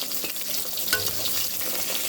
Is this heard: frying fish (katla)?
yes